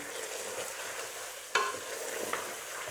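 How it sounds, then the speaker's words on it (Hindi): Mutton with green chilies fries over high heat, a continuous dense sizzle close by, broken by one sharp utensil scrape partway through and a softer knock later. "बस अब मैं इसे तेज़ आंच पे 1 मिनट तक भूनूंगी"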